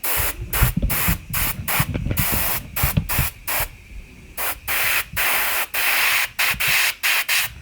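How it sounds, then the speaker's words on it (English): Paint sprayed onto the bottom and sides of an object in repeated short hissing bursts, each lasting under a second with brief gaps between them, loud and close with no talking. "So as you're spraying the bottom, you'll see that you kind of go up on the sides"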